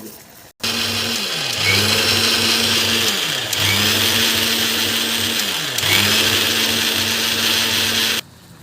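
A kitchen mixer grinder grinds mustard seeds for mango pachadi in three long, loud whirring bursts, each motor run slowing between pulses with a steady hum under the gritty grinding, then cutting off at the end.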